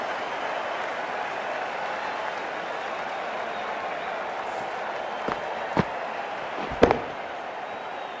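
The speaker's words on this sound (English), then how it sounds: "There's a buzz, a real buzz coming from the stands." A cricket stadium crowd in the Cricket 24 game on Xbox Series X gives a continuous broad roar of cheering and applause, with a few sharp claps or bangs near the end.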